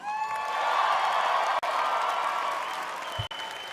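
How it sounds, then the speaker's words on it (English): Audience applause and cheering at the 2019 Miss USA preliminary competition at the Grand Sierra Resort in Reno, a dense sustained wall of clapping with whoops and a faint voice mixed in, steady and loud throughout. "So let's hear all that applause tonight."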